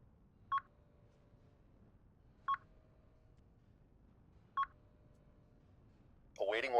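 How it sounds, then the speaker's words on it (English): Three short, evenly spaced electronic beeps heard one at a time with quiet gaps between them, radar pings in the space fleet game Nebulous: Fleet Command, followed at the end by a burst of louder game sound. "I hearing a bunch of radar beeps."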